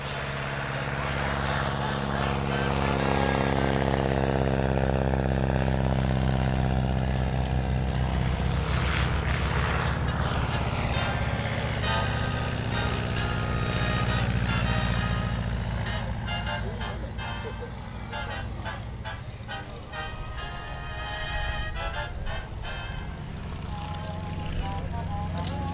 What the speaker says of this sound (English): we see the Stearman starting to launch now